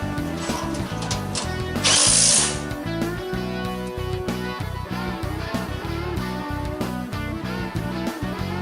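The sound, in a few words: nuts and bolts being tightened with a power tool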